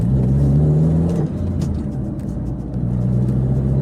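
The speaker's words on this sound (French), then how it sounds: "j'appuie sur l'accélérateur et tout de suite" A sports car, either an MG TF or a Toyota MR2, accelerates hard with a loud, steady engine drone and rising revs close by. The engine note dips briefly near the middle and then climbs again, with no voices heard.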